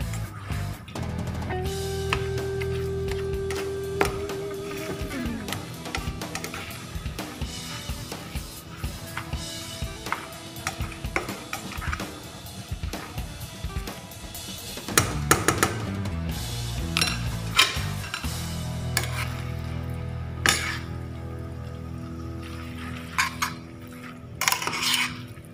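Metal utensils scrape and clatter against a pan while vegetable noodles are mixed, with irregular clinks and stirring scrapes going on steadily, loud and close.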